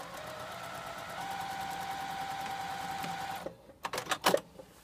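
A sewing machine stitches steadily across the seam of a fabric gusset, a fast even whir up close that runs unbroken, then stops and gives way to a few short clicks and handling knocks at the end.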